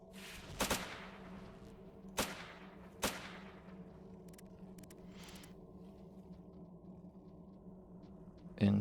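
A few spaced, sharp AK rifle shots in the game Fate of the Zone, each with a decaying tail, ringing out alone over a low steady background hum.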